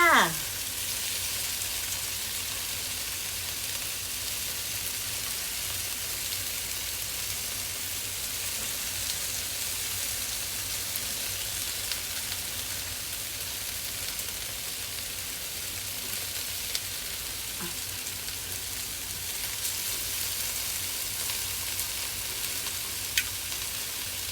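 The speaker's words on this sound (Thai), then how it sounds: "บาร์บีคิวเนื้อค่ะ" Wagyu beef sizzles on a barbecue grill with a steady, dense hiss that runs unbroken for over twenty seconds, broken only by a few faint clicks.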